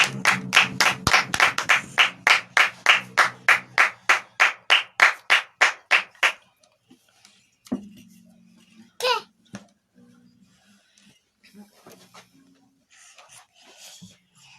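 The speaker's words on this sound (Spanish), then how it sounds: "Fuerte las palmas para Cristo." Congregation in a church clapping hands in unison, a loud, evenly spaced run of about twenty strong claps that stops abruptly, followed by quieter scattered sounds and a brief voice.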